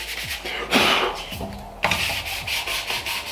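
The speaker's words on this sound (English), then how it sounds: "So let's start with the sanding block and focus on those flat surfaces." Dry putty primer sanded by hand with a sanding block, close and steady, with repeated rasping back-and-forth strokes that pause briefly and then resume.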